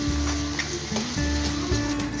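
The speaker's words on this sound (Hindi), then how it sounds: "इन सभी मसालों को और वेजीज को कीमे के साथ में अच्छी तरह से भून लेंगे।" Minced meat with vegetables, turmeric and spices sizzles steadily in a pan, with light stirring scrapes over a constant frying hiss.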